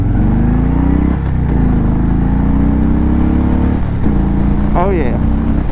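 Harley-Davidson Low Rider motorcycle accelerating on a rolled-on throttle, a loud, close, continuous engine drone that climbs in pitch through the gears, with brief shifts between and a voice near the end.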